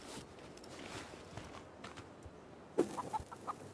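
A chicken clucks in the video game Far Lands, a few short, faint clucks near the end over a low, quiet background with soft footstep-like taps.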